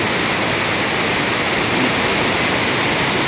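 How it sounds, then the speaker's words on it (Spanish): Waterfall at San Jerónimo Tulijá pours down from above in a dense, continuous broadband rush, loud and close with no pauses. "Caída de agua. Que viene de arriba. Pura cascada."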